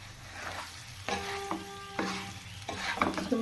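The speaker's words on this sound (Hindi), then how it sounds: "अब हम डालेंगे ना ये बॉल्स जो हमने बना कर रखा था" Balls made from rice flour go into a hot tempering and are stirred, giving a steady sizzle with scraping spoon strokes and repeated clinks against the pan, close and continuous.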